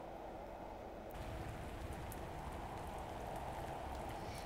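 Acid rain in a Nintendo DS video game, a steady soft patter of falling rain that thickens after the first second and carries on evenly, quiet and with no talking.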